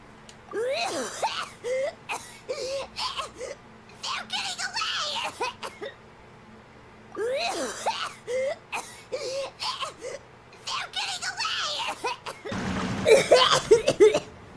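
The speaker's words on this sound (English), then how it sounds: "we need more Paimon coughing sound effects" A high-pitched voice makes repeated bursts of coughing and sputtering sounds in short clusters, ending with a harsher, noisier splutter; Paimon's coughing sound effects from Genshin Impact after swallowing water.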